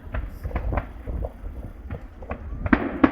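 Fireworks bursting at a night-time display, a run of distant booms and crackles spread irregularly through the moment, with two sharper, louder bangs near the end and faint crowd murmur underneath.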